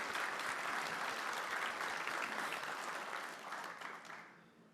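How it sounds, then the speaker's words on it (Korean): Dense applause from a large audience at a Korean government event on work-family balance, greeting the president; steady and full for about three seconds, then thinning and fading out. "여러분 박수로 맞아 주십시오"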